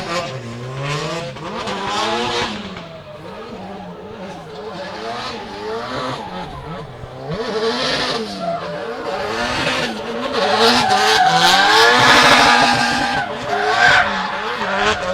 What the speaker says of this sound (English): You can hear that SR20 just hanging on, being thrashed to within an inch of its life